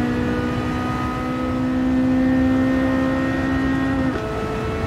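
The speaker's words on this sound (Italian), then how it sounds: "Adesso gli facciamo sentire un pochettino il turbo che prende." A tuned turbocharged car in the Gran Turismo racing game accelerates, its engine drone holding a steady rising whine for several seconds before a brief shift-like dip near the end, with no talk over it.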